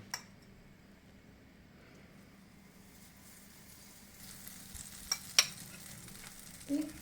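Faint sizzling of a dessert frying in butter in a pan, with a few soft clinks and scrapes near the end.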